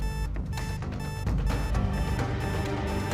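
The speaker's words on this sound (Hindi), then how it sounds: "ये तो हमारी तिजोरी का अलार्म है।" A home safe's alarm rings continuously with a loud, harsh electronic tone, pulsing in uneven bursts over a dense bed of dramatic music.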